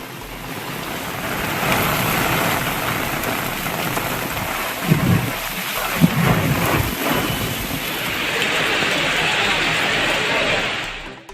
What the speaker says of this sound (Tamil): மன்னார்குடி, வடுவூர், புலிக்கோட்டை, பேரையூர் உள்ளிட்ட சுற்றுவட்டார பகுதிகளில் பரவலாக மழை பெய்தது.